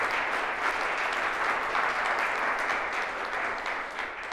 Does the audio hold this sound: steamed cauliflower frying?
no